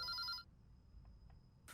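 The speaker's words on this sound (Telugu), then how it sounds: "నీకే ఫోన్." A telephone rings with a bright electronic trill for the first half second, falls quiet, then starts ringing again at the end, all at low volume.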